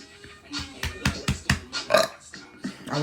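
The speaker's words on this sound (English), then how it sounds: "Look at that burp." A girl's burps come in a quick run of short, loud croaky bursts, close up and irregularly spaced, with a few voiced gulps between them.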